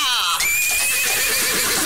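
A horse lets out a loud, drawn-out whinny with a wavering, falling pitch, close by and filling the whole moment, with a hint of hooves beneath.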